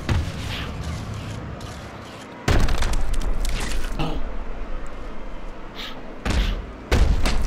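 Heavy punches landing in the boxing video game Fight Night Champion, a series of loud thudding impacts that come in bursts over a steady crowd roar.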